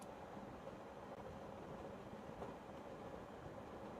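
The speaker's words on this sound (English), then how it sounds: "drowned out by the clacking of the train tracks and the old carriages rattling" A faint, steady rumble of a train with old carriages rolling along the tracks in the video game Katawa Shoujo, with soft rhythmic clacks and carriage rattle, no voices.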